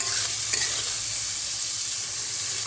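Spice masala for catla fish curry sautéing in oil, a close constant sizzle with soft stirring scrapes and one brief clink early on, no voices heard.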